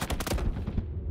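Rapid gunfire from a Roblox shooter game, a dense burst of sharp repeated shots packed close together over about a second, loud and near, with no talk.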